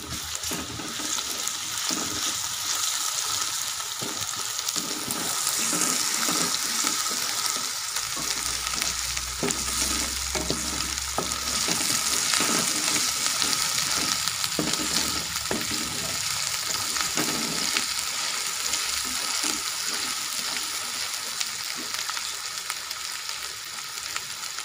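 Ginger, garlic and green chili paste frying in a hot pan, a dense, continuous close-up sizzle and crackle with occasional stirring scrapes, holding steady and loud for the whole stretch with no talking.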